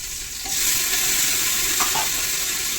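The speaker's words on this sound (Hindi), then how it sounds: "हरी मिर्च, ये सब अच्छे से भून लिए।" Tomatoes and green chillies fry in a pan, a close, steady sizzle with stirring scrapes throughout and no talking.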